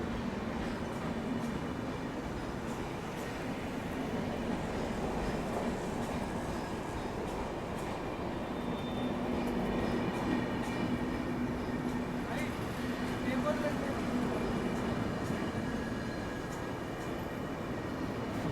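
The Amrit Bharat Express rumbles along steadily from inside a coach, a continuous low roar with faint rhythmic wheel clatter, while people talk over it.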